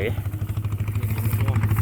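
A farm tractor engine runs in a rice field with a rapid, pulsing mechanical chug and some clatter. It is close and steady, with a low hum beneath it.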